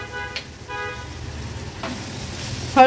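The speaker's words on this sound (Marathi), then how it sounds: "लसूण आणि मिरची तेलावर छान थोडी परतून घ्यायची" Garlic and chilli sauté in hot oil for bomil fish, a low, steady sizzle with faint stirring scrapes and a brief clatter at the end, no talking.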